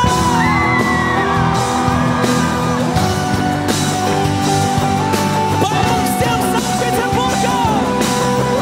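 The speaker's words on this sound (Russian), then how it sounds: "Аплодисменты громче!" A concert crowd cheers, yells and whoops at a 2014 Scarlet Sails show, the shouting mixed into loud, continuous stage music throughout.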